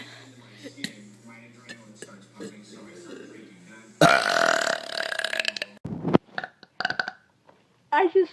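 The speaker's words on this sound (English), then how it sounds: "I just burped." A girl lets out a long, loud, rumbling burp up close, followed by short bursts of voice and laughter-like sounds amid a quiet room.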